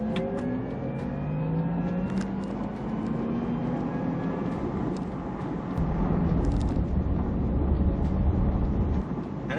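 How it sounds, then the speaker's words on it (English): A Porsche Taycan electric car accelerates with a steady, rising futuristic whine and hum from its battery drivetrain, heard from inside with road rumble underneath and a surge in low-end drive noise partway through. "there's something very futuristic sounding about that battery response, the sound that you get when you're accelerating"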